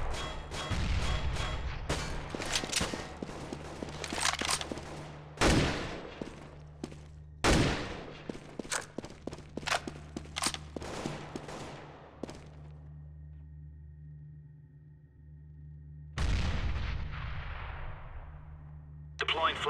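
Grenade blasts and gunfire in CS:GO, a dense run of sharp loud cracks and booms, then a quieter stretch before another burst near the end.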